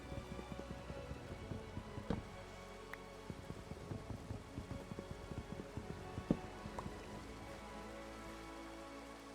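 Steady rain falls in the Minecraft Skyblock video game, a dense, even patter of drops that continues without pause, with faint low rumbles underneath and no talking.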